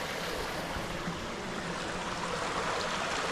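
A stream rushes steadily past a waterfall campsite in the New Hampshire woods, a close, loud, unbroken wash of flowing water with no voices over it.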